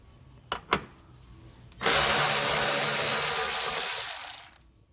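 A power tool buzzes steadily for about three seconds, close and loud, after a few brief knocks, while 10mm screws come out from under the driver's-side front fender of a Chrysler Crossfire.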